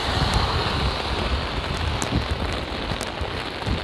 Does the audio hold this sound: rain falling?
yes